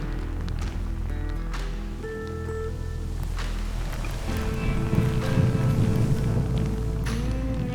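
Steady wind roars and gusts across open water on a Scottish trout-fishing loch, a continuous broadband rush with a low rumble building stronger toward the end.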